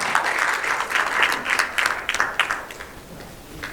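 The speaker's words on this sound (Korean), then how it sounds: "2분임 위원장님, 소병선 상임 부회장님 큰 박수로 맞이해 주시면 감사합니다" An audience applauds in welcome at a Korean policy forum on peaceful coexistence on the Korean Peninsula, a steady mid-distance wash of many hands clapping with dense, slightly uneven claps that thin out toward the end.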